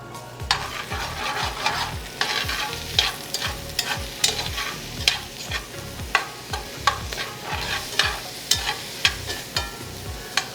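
Brussels sprouts fry in olive oil over high heat, a steady close sizzle broken by repeated rhythmic scrapes and clatters of stirring in the pan, with no talking.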